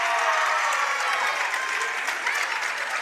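Clapping at a girls' basketball game, dense and continuous like crowd applause, loud and close, with a faint murmur of voices underneath.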